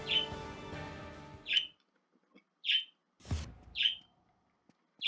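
Bright synthetic bird chirps from the Wizard of Legend video game ring out in short, evenly spaced bursts, mostly alone after a brief stretch of background music.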